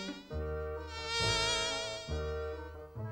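A cartoon fly buzzes steadily and close, its whining drone swelling and fading in a few waves with no talk over it.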